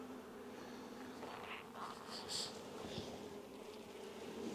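Honeybees in an open hive during an inspection give a steady, dense buzzing hum with a few brighter passes of individual bees flying close, moderately loud and constant, with no talking.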